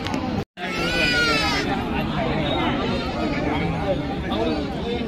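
Goats bleat repeatedly at a busy open-air Kodi goat market in Puthiyamputhur, their wavering cries rising over a constant babble of crowd chatter and nearby talking voices, after a brief dropout at the start.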